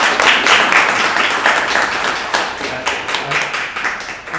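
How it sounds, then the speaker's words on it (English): An audience at a startup talk on content creation applauds after the presentation, a steady dense wash of many hands clapping throughout, fairly loud and close, with no speech over it. "I think we all owe you a bit of applause"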